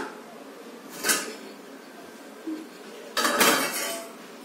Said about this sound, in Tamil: அவ்வளவுதான், இட்லி குண்டான ஓபன் பண்ணிடலாம்.